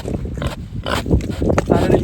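Pigs grunt and snuffle around breakfast feeding time on a small farm, short close rough grunts mixed with a person talking to them.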